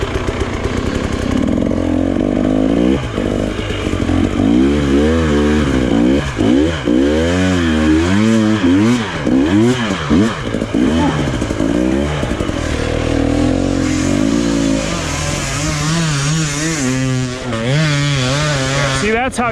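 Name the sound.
dirt bike engine revving at full gas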